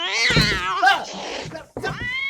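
A cat meows loudly and close by, a few drawn-out, wavering cries with short gaps between them.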